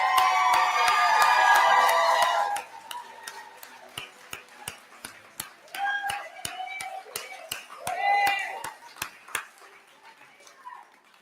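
At a sheriff's office IGNITE graduation ceremony, a crowd cheers and claps loudly at first, then the noise fades into scattered whoops and a steady ticking while a voice speaks over the room.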